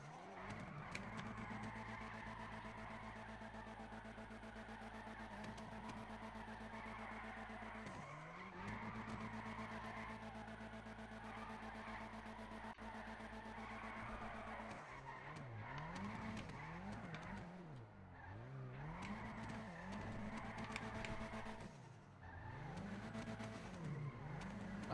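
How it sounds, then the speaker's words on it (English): Car drifting in GTA V on PC near a parking garage, engine revving steadily while tires squeal and skid in repeated wavering bursts, loud and continuous. "I might go over to the parking garage and try to drift that."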